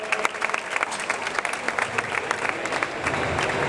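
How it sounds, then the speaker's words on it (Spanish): A conference audience applauds, dense clapping with distinct individual claps, steady and moderately faint throughout. "Un aplauso."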